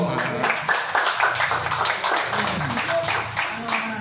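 Audience clapping at a local government discussion about mining in Tulungagung, a dense patter of hand claps lasting a few seconds at moderate volume, with some voices mixed in.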